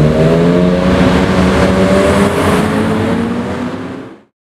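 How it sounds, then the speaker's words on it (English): Bugatti Veyron launching and accelerating away, a loud rising engine roar with climbing harmonics that holds strong, then fades quickly into the distance. "And there goes the Veyron."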